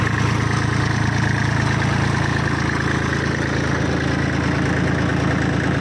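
A Kubota 34 hp tractor engine idles steadily and close by, its low, even running drone continuing without a break.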